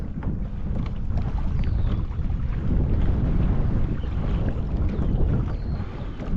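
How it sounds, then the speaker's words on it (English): Wind gusts steadily across a kayak out on open water, a constant rumbling buffet on the microphone with faint water wash beneath, continuous and fairly loud with no talking. "That wind's cutting across us."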